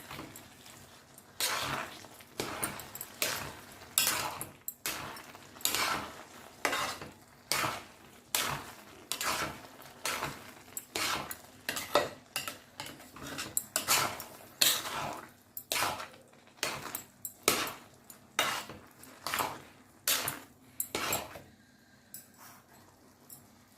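Carrot halwa roasts in pots, heard as a long run of regular metallic scraping and clinking strokes from a spoon against the pot, repeating roughly every second, close and fairly quiet, with no talking.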